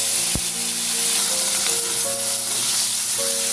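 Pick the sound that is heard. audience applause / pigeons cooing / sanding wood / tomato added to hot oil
tomato added to hot oil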